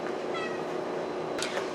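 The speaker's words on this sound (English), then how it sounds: "Kitty cat." Indoor house cat giving a short, faint meow, with a brief higher cry near the end against a steady low background hum.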